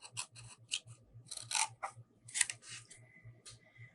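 Scissors snip along score marks on a workpiece in a home shop, a close, quiet series of separate crisp cuts with short pauses between them, heard alone.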